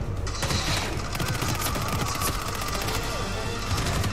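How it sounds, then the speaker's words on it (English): Rapid, dense gunfire from enemies shooting at the player in Hitman 3. Sharp shots and mechanical clatter run steadily the whole time with no break. "Oh, they shoot me, they shoot me"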